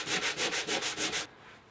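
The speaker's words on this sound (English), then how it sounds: "I'm gonna sand down the rust." Rapid back-and-forth strokes of 180 grit sandpaper scrub rust off the metal frame of a 1966 Ford Mustang back seat, about seven even rasping passes up close before stopping.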